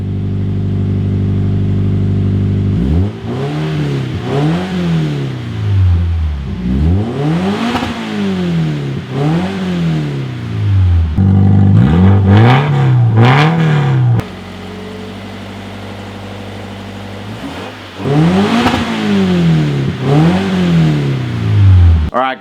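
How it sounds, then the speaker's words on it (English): Toyota 86 with a muffler delete exhaust revving hard and close, repeated sharp climbs and drops in engine pitch, loud and raspy, with a brief quieter idle between the bursts. "we're going to listen to what an 86 sounds like with a muffler delete"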